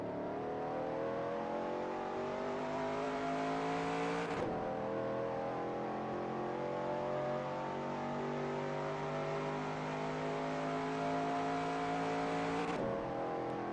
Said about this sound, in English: You can hear the rumbles from my wheel,